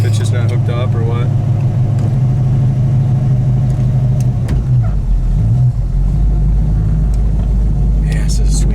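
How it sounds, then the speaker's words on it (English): A 1970 Dodge Charger classic V8-style engine idles with a deep, steady exhaust rumble throughout, loud and close, with a brief rev swell partway, while people talk over it. "That exhaust sounds so good too."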